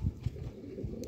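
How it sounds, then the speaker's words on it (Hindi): Teddy pigeons giving low, soft coos in quick succession, close and fairly quiet, with no voices. "के दोस्तों टैडी कबूतर तुहाडे शौक वास्ते हाज़र ने।"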